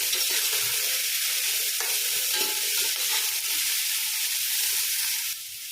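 Sliced onions sauté in hot oil in a pan for white pulao, giving a steady, close, dense sizzle with faint stirring scrapes throughout and no talking, easing slightly at the very end.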